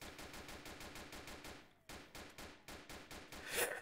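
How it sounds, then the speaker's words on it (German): Rapid automatic gunfire from a police-raid shootout in a multiplayer crime roleplay game set in Hamburg, with dense repeated bursts filling the scene, a short break, then more volleys. "Auf uns wird geschossen."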